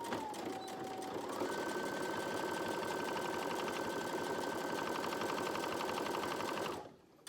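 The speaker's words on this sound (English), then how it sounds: "I'm just gonna go ahead and do a zigzag stitch right in here." A sewing machine hums steadily and close while zigzag stitching a youth gaiter, one continuous run with a rising whine that stops just before the end.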